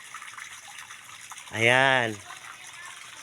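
Water gushes into a mini pool at an elementary school in a brief, loud burst of about half a second after a quiet start, with someone speaking briefly before it.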